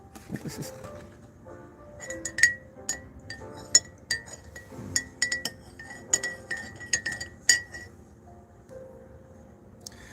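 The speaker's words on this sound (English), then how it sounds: "Stirring up some coffee, man." A spoon stirs coffee in a cup, ringing out a long run of irregular bright clinks against the glass, close by and fairly quiet, with soft background voices underneath.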